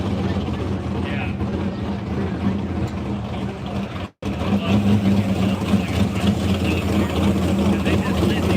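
A drag racing car engine idles loudly at a dragstrip during a drag-and-drive rally event, a steady heavy rumble with a brief cutout midway and people talking faintly over it.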